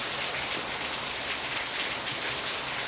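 Rain falls outside in a soft, steady patter and hiss, continuous and moderately faint, with no voices over it.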